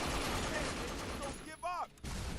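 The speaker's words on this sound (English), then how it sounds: "What is shooting me?" Gunfire in the Binary Domain video game crackles as a dense, muffled patter under a faint voice, then briefly drops out around a short, sweeping electronic whine.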